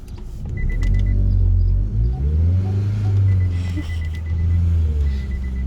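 A car is driven and parked: a steady low engine rumble holds close and continuous, with its pitch shifting slightly as the vehicle slows and maneuvers, and no one speaks.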